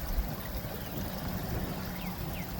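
Water trickling and pouring steadily from one filling garden pond waffle into the next, a soft continuous splashing flow held at an even level throughout.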